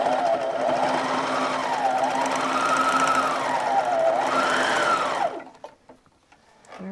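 A serger stitches a fabric hanging organizer with a loud, steady mechanical whir that rises and falls in pitch as the speed changes, then cuts off abruptly, leaving faint handling noise.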